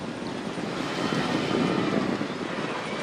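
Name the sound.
helicopter flying over Tour de France race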